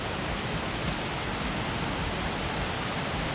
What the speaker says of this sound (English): Robinson Waterfalls, located in Tanarata, which is also known as center of Cameroon Highlands.